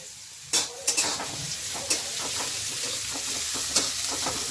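Cauliflower and peas cooking in a home kitchen pan, giving a constant hissing sizzle with a few sharp clatters of stirring near the start and end.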